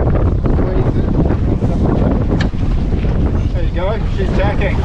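A Welsford Navigator yawl tacks under its mizzen in blustery conditions, with heavy wind buffeting the microphone, water rushing along the hull, and voices partly buried in the roar.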